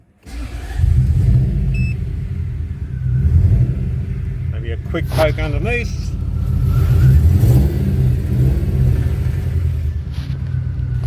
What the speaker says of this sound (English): Running extremely poorly due to a blocked up catalytic converter.